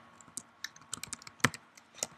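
Quick, uneven keystrokes on a computer keyboard as a file name is typed, a dozen or so crisp close clicks with one louder tap midway, heard alone in a quiet room.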